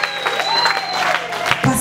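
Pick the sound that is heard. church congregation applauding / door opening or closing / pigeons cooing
church congregation applauding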